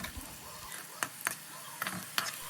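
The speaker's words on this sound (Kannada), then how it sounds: "ಎಲ್ಲ ಕಡೆಯೂ ನೀಟಾಗಿ ಒಂದು ರೌಂಡ್ ಮಿಕ್ಸ್ ಮಾಡ್ಕೊಳ್ಳೋಣ" Snack frying in a pan on medium heat and being stirred, soft sizzle with a few sharp scraping clicks from the spoon, no talk.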